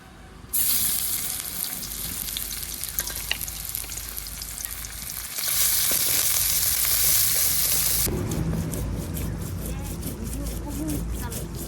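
Onions drop into a hot wok and sizzle loudly and steadily, the frying hiss surging stronger midway and then settling into a crackling sizzle as they are stirred, with faint voices in the background.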